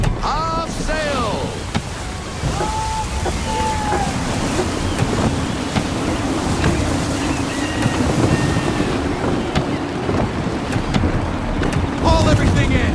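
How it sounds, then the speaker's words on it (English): Wind gusts and waves surge around a sailing ship in Assassin's Creed 3 Remastered, a constant rushing roar of sea and air with creaks and scattered voices shouting orders over it. "Gusty winds can be difficult to manage."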